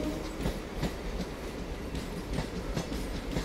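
A MEMU train pulls into platform 1 at Baiyappanahalli, its wheels beating a steady clickety-clack rhythm over the rail joints, loud and close with a constant rumble beneath.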